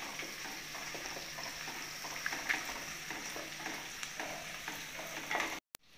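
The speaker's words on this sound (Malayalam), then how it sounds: "ചെറിയ ഉള്ളി നന്നായിട്ടൊന്ന് മൂത്ത് വരുന്ന വരെ നമുക്കൊന്ന് വശക്കി കൊടുക്കാം" Small onions sauté in a pan for a clam stir-fry, a soft continuous sizzle with faint stirring scrapes, fairly quiet, ending in an abrupt cut.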